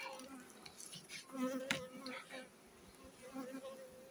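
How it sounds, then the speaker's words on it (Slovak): Honeybees at an open hive during a colony check a month after honey extraction, with a steady buzzing hum and occasional louder passes of individual bees close by, accompanied by faint handling noises. "Takže včely po mesiaci skontrolované, je ich tu dosť."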